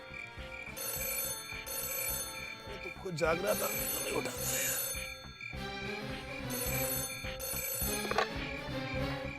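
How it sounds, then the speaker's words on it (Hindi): A telephone rings in repeated bursts with pauses between, while someone talks over it. "देखिए कहीं फोन तो नहीं बज रहा है।"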